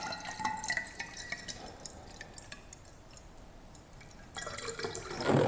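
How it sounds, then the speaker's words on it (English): Distilled water poured straight from a jug to top up a collodion chemistry mix to about 350 milliliters, a steady close trickle and splash that swells louder near the end as the vessel fills. "pouring directly from the jug"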